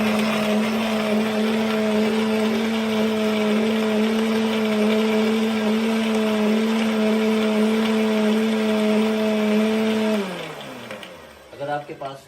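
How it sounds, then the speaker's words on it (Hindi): A blender blending a milkshake runs steadily at high speed with a loud, even motor whine for about ten seconds, then winds down and stops, followed by a few clunks. "अब जो है हम इसको ब्लेंडर में ब्लेंड कर लेंगे।"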